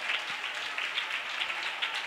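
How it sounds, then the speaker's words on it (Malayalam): Church congregation clapping hands together in a steady, dense patter of many palms, moderately distant and even in loudness, with no clear speech over it. "നല്ലപോലെ കൈയടിക്കണം"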